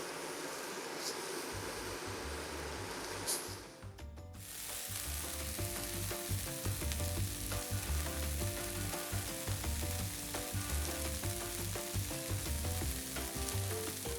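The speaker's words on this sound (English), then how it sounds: "Once you've got your meat in, you really want to let it brown" Large portion of minced beef browning in a pan over lowered heat, a dense continuous sizzle with crackling that drops briefly and then returns fuller and louder, without talk.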